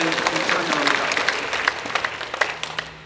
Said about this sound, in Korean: 찬양의 박수 한번, 감사의 박수 한번 올려드리겠습니다.